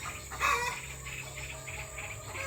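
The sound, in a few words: laying hens clucking in a poultry coop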